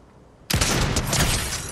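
After half a second of quiet, a loud burst of gunfire breaks out in a sniper video game session and keeps rattling with dense, overlapping shots to the end.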